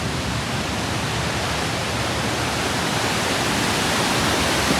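Storm-driven waves on Lake Superior crash and churn in a dense, steady roar of broadband surf noise, loud and unbroken, with no voices.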